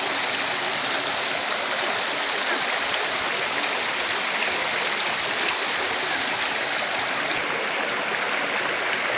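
Water from a park fountain pours and splashes continuously, a broad, even rushing that stays close and unbroken, with no talking over it.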